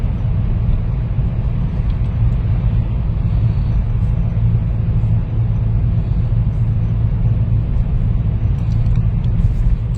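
Traffic in a road tunnel in Liverpool fills the space with a loud, continuous, booming rumble of car engines and tyres, echoing and steady for the whole stretch with no one talking.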